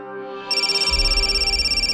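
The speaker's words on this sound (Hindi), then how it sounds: "फोन बज रहा है तुम्हारा।" A phone rings with a steady electronic tone, fairly loud and close, over a low pulsing hum that kicks in partway through.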